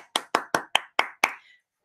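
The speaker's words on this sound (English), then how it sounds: "Let's give yourselves a really big clap again." About six sharp hand claps ring out at a school celebration assembly, evenly spaced and crisp against silence, then fade quickly into quiet.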